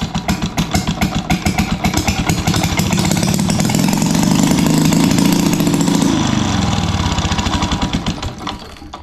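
A 1937 Maytag washing machine engine runs with no muffler fitted, giving a loud, raw, rapid popping exhaust beat that holds steady for several seconds before slowing and dying away near the end.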